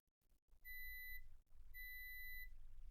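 Two clear, steady electronic beeps from a multimeter on continuity setting, each about half a second long with a short gap between, as the probes touch vias on a MacBook Pro Retina logic board; quiet background hum, no talk.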